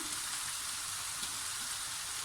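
A steady, hissing sizzle of finely chopped leeks sautéing in a hot pan, continuous and even with no talking.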